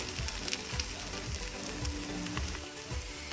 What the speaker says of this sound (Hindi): अब इसको इस तरह से दबाने के बाद फिर से इसको पलटेंगे और क्रिस्पी होने तक पका लेंगे।